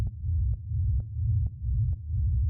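Distorted techno kick drum with reverb, made with distortion settings and sidechained to a dry kick, pounding in a steady four-on-the-floor pulse of about five hits, heavy and boomy with a sustained low rumble between beats.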